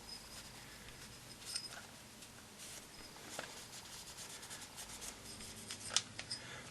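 A cloth wiping a part of a field-stripped 1911 pistol, soft close rubbing and light scuffing with a few small clicks, quiet throughout.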